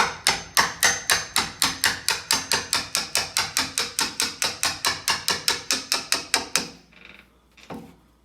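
Steady hammering while fitting a French door, about twenty-five sharp, loud, evenly spaced blows in a fast rhythm, then stopping, with a couple of faint knocks afterward.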